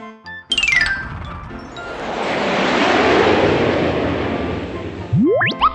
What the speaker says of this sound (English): An airplane goes whoosh, whoosh, whoosh.